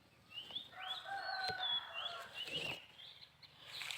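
A chicken in a garden among lime trees gives drawn-out, rising and falling calls and clucks at moderate distance, with quiet background in between.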